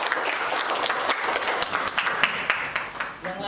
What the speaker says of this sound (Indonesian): Kita kasih aplaus dulu untuk Ana.